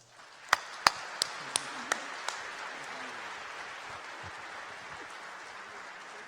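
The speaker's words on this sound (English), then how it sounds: "Let's give them a huge round of applause." Applause from the crowd at a hackathon opening ceremony. A few loud, sharp claps stand out close by over a steady wash of clapping across the room.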